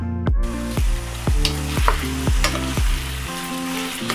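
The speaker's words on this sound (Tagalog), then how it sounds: "So ayan, halu-haluin lang natin. Magpantay yung pagkakagisa niya tsaka yung paglabas ng kanyang katas." Sweet chicken adobo sautés in a pan, stirred in about eight regular scraping strokes over a loud, continuous sizzle, with no talking.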